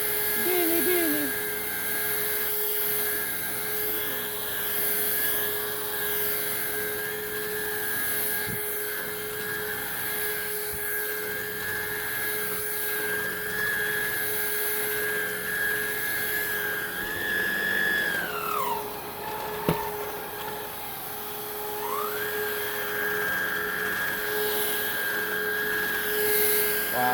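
Steady high-pitched motor whine of a cordless vacuum running continuously, pitch dipping briefly then returning, with faint talking in the background.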